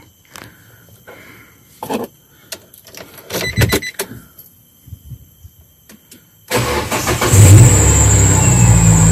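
A Nissan Evalia fuel-injected, ECU-controlled engine cranks and catches at about six seconds, then runs steadily at a loud, high idle after a stretch of scattered clicks and handling noises.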